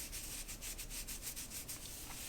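A hand rubs rough, unwashed knitted fabric in a soft, steady brushing hiss with faint rhythmic strokes, close and quiet, with no voices.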